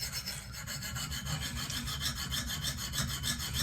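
A KME fixed-angle sharpener stone on a Benchmade Steep Country knife blade makes close, rhythmic scraping strokes, about three per second, alone and steady.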